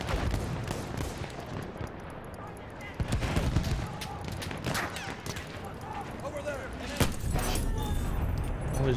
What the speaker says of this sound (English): Chad, I think they're uh, chucking uh, mortars over here.